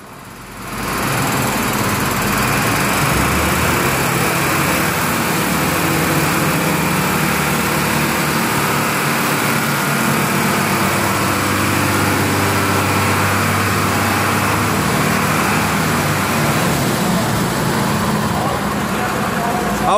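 A small car engine, just started, runs loud and close, holding a steady, buzzing drone throughout with a sharp rise at the very start.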